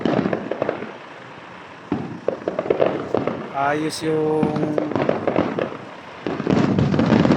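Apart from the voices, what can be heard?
fireworks exploding by the seaside at MOA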